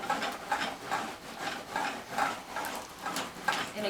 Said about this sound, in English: we'll go ahead and get these strips cut